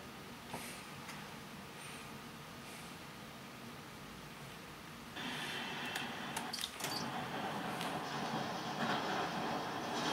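A train rumbles past in Spider-Man: Miles Morales, its steady noise swelling louder midway with clattering and screeching bursts, no voices.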